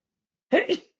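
A single person's sneeze, a sharp two-part burst lasting under half a second, close and fairly loud after a stretch of silence.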